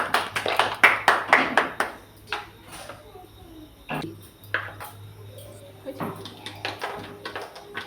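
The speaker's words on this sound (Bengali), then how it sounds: "হাততালি দাও" Several pairs of hands clapping in a burst of quick claps at close range, followed by scattered lighter claps, with people talking over and between them.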